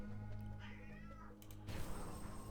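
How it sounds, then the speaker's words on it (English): A grumpy house cat, just woken up, meows close by in a few drawn-out, wavering cries, alone without any talk. "my cat woke up and he's grumpy and he wants something"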